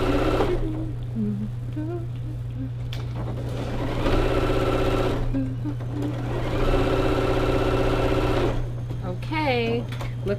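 A sewing machine slowly stitches a churn dash quilt seam, its steady motor hum running continuously while a person talks over it throughout.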